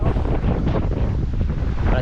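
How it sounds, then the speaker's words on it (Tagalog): Strong wind buffets the microphone out on the open West Philippine Sea, a constant rough roar with faint sloshing underneath. "hindi na ganong kalakasan yung hangin"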